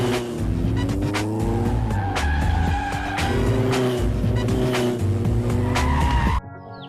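A car driven at high speed, its engine roaring loud and close with shifting pitch and brief squealing tire sounds, ending abruptly near the finish.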